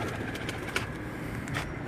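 A golden pigeon at a breeder's loft coos in soft, low repeated notes, close by, with faint background hum and no talking.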